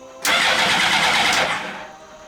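A mini trophy truck engine cranks and catches with a sudden loud burst, roaring roughly for about a second before settling to a lower idle.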